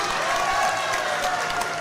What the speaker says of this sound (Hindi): अपने शुक्ला मुंडा जी जो हमारे प्रत्याशी हैं, उनके लिए एक बार जोरदार ताली।